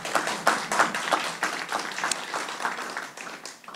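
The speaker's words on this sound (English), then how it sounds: "I see some people snapping and clapping quietly in the background." Light clapping and finger snapping from an audience at a bill signing, soft and scattered over a few seconds, fading slightly toward the end with no speech on top.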